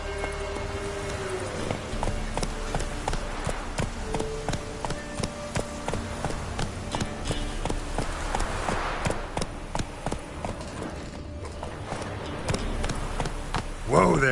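Hoofbeats of Roach, Geralt's horse in The Witcher 3: Wild Hunt, a steady clip-clopping gallop running through the whole stretch, close and fairly loud over in-game ambience, with a voice briefly present.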